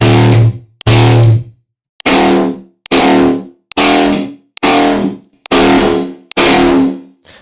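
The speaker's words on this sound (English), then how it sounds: "this last one is just this resampled tear bass 2, but it has reverb on it and some more saturation" Eight punchy resampled tearout bass stabs with reverb and heavy saturation hit in a steady rhythm, each a loud distorted burst that cuts off into silence before the next, with no voices.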